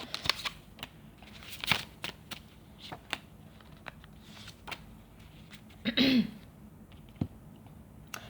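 Tarot cards are shuffled and drawn in a series of brief, close flicks and riffles, with one louder burst of shuffling, separated by quiet gaps.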